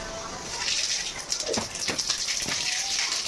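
Mustard seeds crackle and pop in hot oil after fenugreek seeds, a dense spattering hiss with scattered sharper pops, fairly close and loud.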